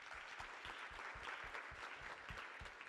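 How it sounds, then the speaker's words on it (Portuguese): Faint, steady audience applause fills the room at the end of an academic thesis presentation, a dense wash of many hands clapping continuously without pause. "Uma salva de palmas para os dois."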